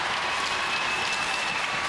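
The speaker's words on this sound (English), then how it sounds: "The crowd reacting to the hit." A hockey arena crowd at a PWHL playoff game, Minnesota Frost at Toronto Sceptres, reacting to a hit with a steady, dense roar and cheering.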